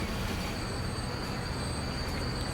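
Trams running in the video game Transport Fever 2, a steady rolling rail rumble with a faint thin whine above it, continuous and moderately close, no talk.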